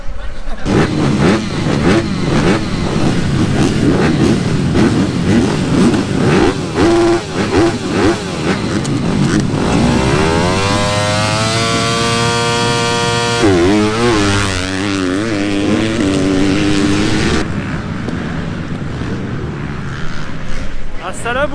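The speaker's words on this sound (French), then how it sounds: "les pilotes reviennent de leur tour de chauffe, tour de reconnaissance, avant d'aller s'installer là-bas sur la côte" Motocross bikes return from their warm-up lap, with several engines droning and revving at varying distances. Steady talk runs over the engine noise as the revs rise, fall and pass.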